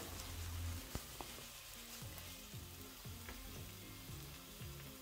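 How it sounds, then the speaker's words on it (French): Red onions sweat in smoking-hot sesame oil in a pan, with a faint, steady crackling sizzle and a few soft stirring knocks throughout. "On met les oignons rouges qu'on fait suer sans coloration."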